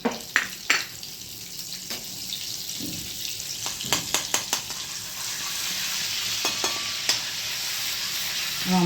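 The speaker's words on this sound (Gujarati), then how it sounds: "હમણાં આવી જશે એટલે હું વઘાર મૂકું છું" Tempering spices crackle and sizzle in hot butter and oil for a Punjabi sabji, a constant close hiss broken by sharp clicks and scrapes of a stirring spoon.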